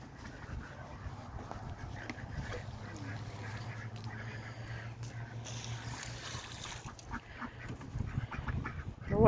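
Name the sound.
ducks quacking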